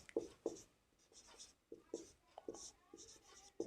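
Handwriting numbers in ascending order while working a class 10 maths problem: a pen or chalk taps and scratches in short repeated strokes, fairly close and faint, with a voice talking at times.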